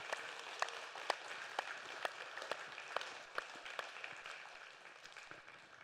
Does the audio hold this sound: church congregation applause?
yes